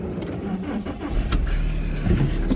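A car engine turns over and settles into a steady idle, with broadband mechanical noise and a low rumble building toward the end. It runs alone with no voices, and the engine type cannot be confirmed.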